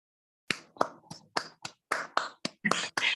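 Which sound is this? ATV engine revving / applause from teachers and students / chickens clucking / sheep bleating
applause from teachers and students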